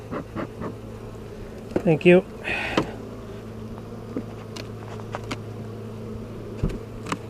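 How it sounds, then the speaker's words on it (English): Honeybees buzz low and steady around an open hive during an inspection, with a brief burst of handling noise and a short spoken thanks near the start, then faint clicks and taps. "Bees are still pretty mellow."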